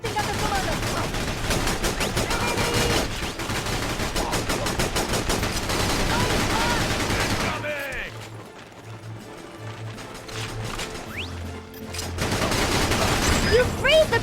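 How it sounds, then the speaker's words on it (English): Rapid gunfire rattles in the Battalion Wars GameCube game, dense automatic bursts for about eight seconds, then a quieter lull with scattered engine and effect sounds before the shooting returns loudly near the end. "They're shooting at the commander!"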